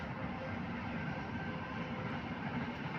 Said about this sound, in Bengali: এইদিকে আবার ট্রেন যাচ্ছে